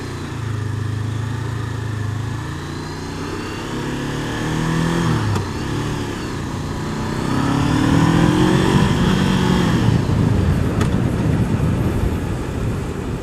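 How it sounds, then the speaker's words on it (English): A car approaches and passes on a road, heard from a moving motorcycle as a rising, then falling engine drone over steady wind and engine noise, growing louder toward the end. "There's a car coming."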